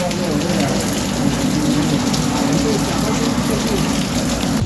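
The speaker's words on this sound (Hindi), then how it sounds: "बहुत भयंकर बारिश हो रही" Heavy monsoon-style rain pours down on a cycling trip from Dahod to Kedarnath, a dense, loud, unbroken roar of drops close by.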